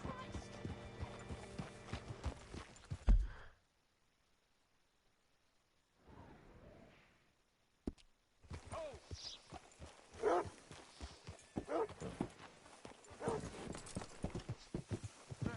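Horse hooves clip-clop on hard ground in a Western outlaw setting, a rhythmic run of near, fairly loud steps broken by a quiet pause, with people talking over parts of it.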